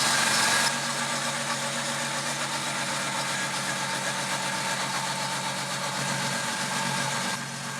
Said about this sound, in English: while this Jeep is warming up so that the fan turns on